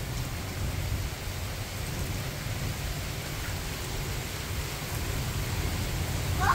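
Rain falls steadily outdoors where children are playing in puddles, a continuous close hiss of drops that holds even throughout and swells a little at the end, with no talking.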